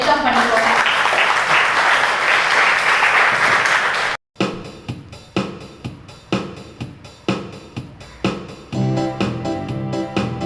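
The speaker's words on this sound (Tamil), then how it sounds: "முதல் முறையா வந்தவங்க எல்லாருக்குமே நீங்களே நல்லா கைத்தட்டி உங்களை வெல்கம் பண்ணிக்கோங்க" An audience at a Brahma Kumaris event for people with disabilities in Thiruporur claps to welcome first-time visitors: a dense, loud burst of applause for about four seconds that stops abruptly, followed by a series of separate, regularly spaced sharp sounds.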